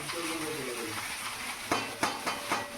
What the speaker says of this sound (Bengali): ভাতটা ঢেলে দিয়ে এখন মিশাবো